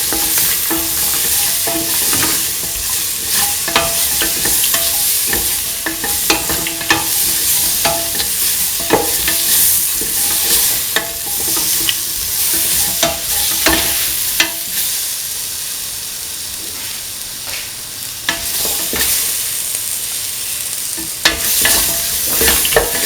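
A spoon stirs and scrapes a frying potato and ivy gourd mixture spiced with garam masala in a pan, with steady sizzling and repeated clinks and scrapes, close and fairly loud throughout.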